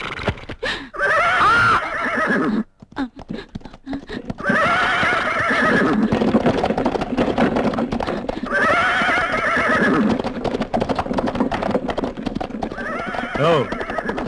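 Several horses whinny and neigh loudly in repeated bursts while circling around, with clip-clop hoofbeats and a brief quieter gap early on.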